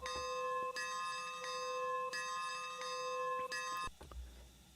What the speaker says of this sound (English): And it sounds like an actual recording of a bell.